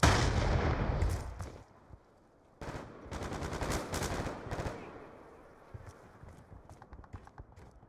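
Gunfire in a shooter video game, with heavy automatic bursts rattling across the first seconds, then a pause, then another long sustained burst and scattered lighter shots trailing off.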